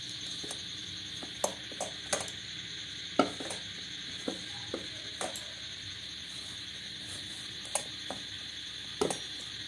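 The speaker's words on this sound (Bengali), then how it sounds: "খুব ভালো করে মিশিয়ে নেব।" Oats omelette batter is mixed in a bowl: irregular light clinks and taps from the utensil against the bowl sound over a steady background hum, faint and close, with no talking.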